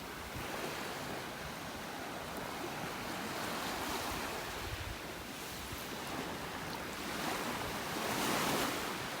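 Surf washing steadily onto a beach in North Naples, Florida, a continuous broadband roar with mild wind buffeting and a slightly louder swell near the end, no voices.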